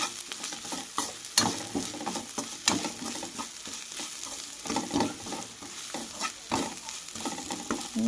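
Masala with salt is fried and stirred in a pan for chicken curry. A close, steady sizzle sits under rhythmic scraping strokes of the spoon, with no talking.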